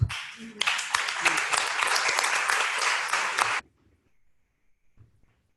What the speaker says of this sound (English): I think they deserve another big clap.